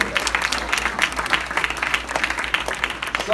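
An audience at a black-tie event applauds faculty members with steady, dense clapping that continues evenly throughout, loud and close.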